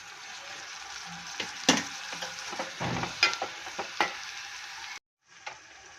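Chopped tomato pieces frying with onions in a pan, crackling and sizzling quietly while a spoon stirs and scrapes in short bursts, then the sound cuts out briefly near the end.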